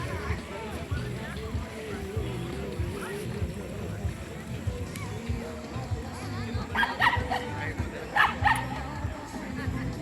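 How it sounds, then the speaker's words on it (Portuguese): A small dog barks repeatedly with yips at Praia do Bosque beach, moderately close, over a constant background wash; a few sharper barks near the end. "O cachorrinho."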